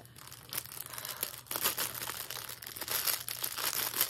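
Scissors cut open a plastic parcel bag, giving a close, continuous crinkling and tearing with rustling bursts over a faint steady hum.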